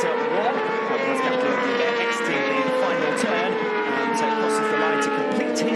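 A World Superbike racing motorcycle comes off the final turn at the Mandalika circuit, its engine a loud, continuous high whine rising and shifting through gears, heard steadily throughout.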